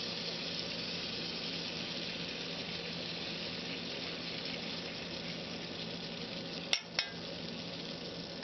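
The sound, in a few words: chicken sizzling in a skillet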